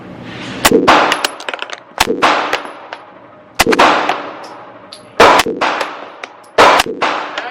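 Gunshots at an outdoor shooting range, five loud sharp reports spaced a second or more apart, each with a ringing metallic tail, close and alone without talk.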